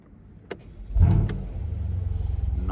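A Brabus-converted Mercedes S63 AMG Cabriolet is started with a key: a brief click and starter crank, then the engine catches with a loud burst and settles into a steady, throbbing idle close by.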